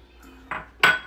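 Corn and black beans being mixed in a bowl with a utensil, giving two short clinks and scrapes about a third of a second apart, close and moderately loud, with no talk.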